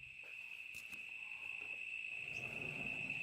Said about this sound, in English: More loud things, crickets and cicadas this time.